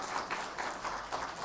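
A church congregation gives a short, soft round of thankful applause during a Sunday service, the clapping faint and somewhat distant, pulsing in loose waves with no voices over it.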